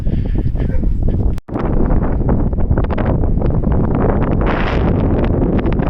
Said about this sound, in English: Wow, okay, I'm here now. A little bit windy.